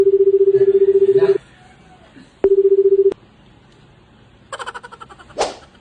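A phone keypad sounds two long steady dialing tones while a call is placed, with faint voices in the background and a short beep and click near the end.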